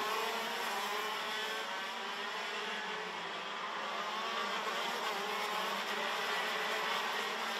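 KZ2 Master racing karts at the Genk circuit during a prefinal, producing a steady high-pitched two-stroke engine whine that holds level throughout, moderately distant, with no talk.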